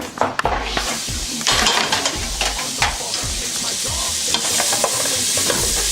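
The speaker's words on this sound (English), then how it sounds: "So I'll zoom on here and get the onions in the pot." Onions frying in butter in a pot, a steady close sizzle with repeated scraping stirs and occasional clinks of a utensil against the pot.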